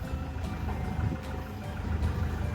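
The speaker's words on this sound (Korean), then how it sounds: "오랜만에 엔진 소리를 한번 들어보도록 하겠습니다" A 2017 Hyundai Mighty 2.5-ton dump truck idles nearby, its diesel engine giving a steady, even low rumble with no revving throughout.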